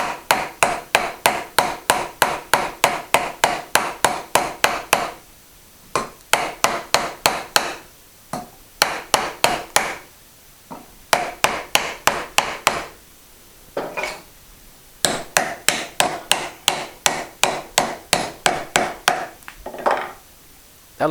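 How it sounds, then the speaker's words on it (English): No-mar hammer tapping a wooden dovetail joint together, rapid runs of sharp close knocks in repeated bursts with short pauses between. "By the way, this is a no-mar hammer."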